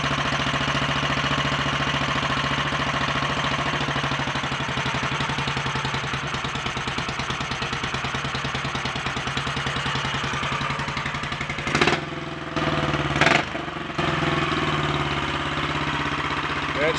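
A Royal Enfield 500 motorcycle engine idling on its first start after tuning work, a steady close thumping clatter that runs throughout, briefly broken by two short dips near the end.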